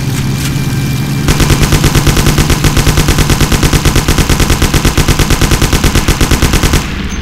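Rapid automatic gunfire from a Mafia video game shootout: a dense, steady burst of shots starts after about a second and runs loud and unbroken for several seconds over a low engine-like hum, then cuts off near the end.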